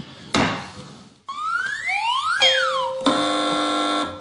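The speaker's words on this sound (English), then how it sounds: "Fingers on buzzers." On a TV panel quiz show, a sharp hit, then rising and falling electronic sweeps lead into a steady, sustained buzzer tone, loud and close.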